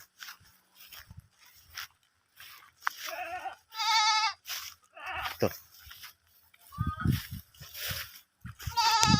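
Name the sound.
goats bleating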